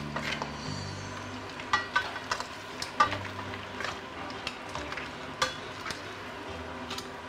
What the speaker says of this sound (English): I cannot toss very fast and I don't want to burn my crab or my ingredient